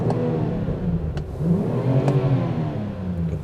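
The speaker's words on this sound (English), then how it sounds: "You can hear that little exhaust popping." A BMW 340i xDrive sedan engine in sports mode revs up and down close by, with a few sharp crackling pops from the exhaust between the rising and falling roars.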